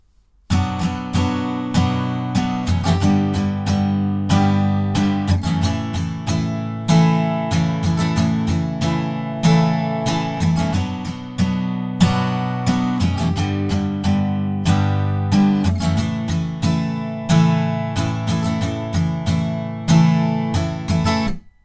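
Acoustic guitar strums the chorus chords of a song, a steady, even rhythm with regular chord changes, close and clear, with no singing or talking.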